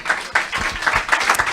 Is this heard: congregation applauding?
yes